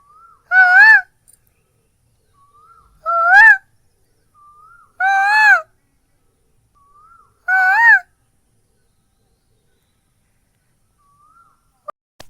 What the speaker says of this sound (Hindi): तो ये देखिए जो एक काफल पाको वाली चिड़िया है वो अभी आवाज़ कर रही है